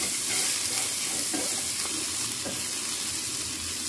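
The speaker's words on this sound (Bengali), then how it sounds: "এখন গ্যাসের আঁচটাকে মিডিয়ামে রেখে এটাকে কম আছে কুমড়োটা হালকা করে ভাজা করে নিতে হবে।" Pumpkin pieces frying with a pinch of turmeric in a pan over a medium gas flame, a steady close sizzle with a few scraping stirs breaking through.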